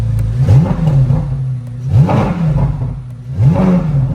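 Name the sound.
V8 sports car engine revving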